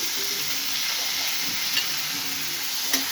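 Chopped tomatoes sizzle in a hot pan for masala Maggi, a steady bright hiss close by with faint stirring and a couple of soft clicks.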